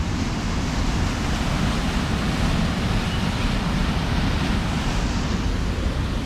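A small waterfall pours on Réunion Island in the rain, making a loud, steady, dense rush of falling water that fills the whole clip without letup, with no voices.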